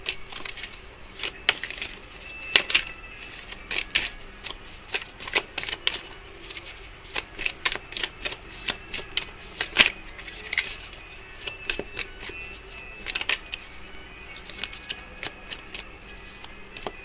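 Tarot cards are shuffled by hand in close, steady runs of crisp riffling flicks and taps, carrying on almost continuously without talk.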